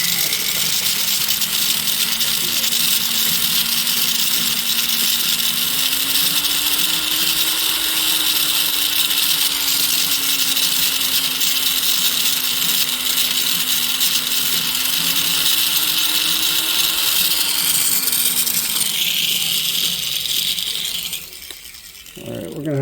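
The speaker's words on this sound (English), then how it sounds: "We're gonna have to grind a little more." A power tool grinding a metal ring, a loud continuous whine whose pitch rises and falls slightly as pressure changes, running steadily for about twenty seconds before cutting off near the end.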